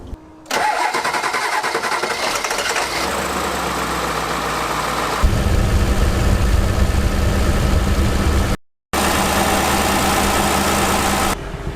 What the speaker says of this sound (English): Just idling in the driveway